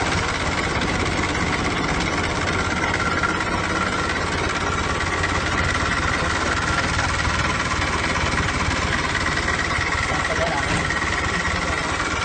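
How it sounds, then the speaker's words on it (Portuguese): A car engine runs steadily at idle, a constant low rumble with a faint whine, unchanged and close by for the whole stretch. "o segundo processo agora é você ligar o motor."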